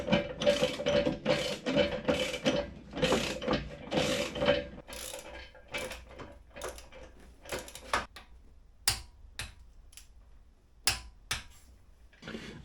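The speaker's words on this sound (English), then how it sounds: "Now it's time to put some Loctite and fasten all the bolts." Ratchet wrench tightening bolts on an SW-Motech skid plate and engine guard fitted to a Kawasaki motorcycle, with repeated rapid clicking bursts early on, then scattered separate clicks and clatters, fairly close and alone.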